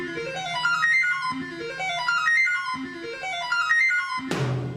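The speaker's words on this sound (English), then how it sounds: "That's a sequencer you're talking about" An electronic sequencer plays a bright, repeating 14-note synth pattern whose notes climb in steps and then restart, cycling several times before a crashing cymbal-like hit at the end.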